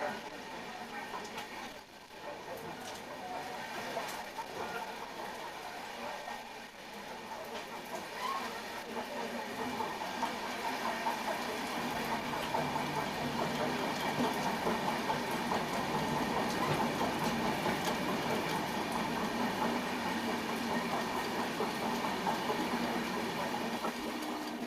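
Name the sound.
Okha Rameshwaram Express train running during crossing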